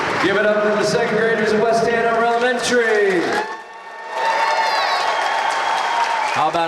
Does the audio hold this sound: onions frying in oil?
no